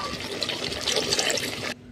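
A small amount of water pours into a pan of Bengali chicken kosha, splashing in a close, loud stream for under two seconds before cutting off abruptly.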